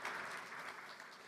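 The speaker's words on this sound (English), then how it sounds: "Please give her a warm round of applause." A large conference audience applauds in a steady, dense wash of clapping, fairly soft and distant, with no voices over it.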